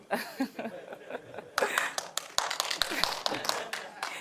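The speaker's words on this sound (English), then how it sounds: "You got applause for that." Audience clapping and scattered laughter at a crowdfunding panel talk, beginning with light taps and swelling into denser, livelier applause about midway through, fairly close and moderately loud.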